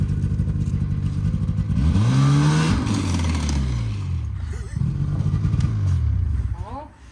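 A snowmobile engine drives through a fast-food drive-through, its droning note rising and falling in pitch as the throttle changes, while people talk over it.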